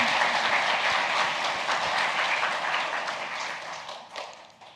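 Church congregation applauding the worship team at a Holy Week special dawn prayer service: a steady wash of many hands clapping, loud and dense, that thins and tapers toward the end.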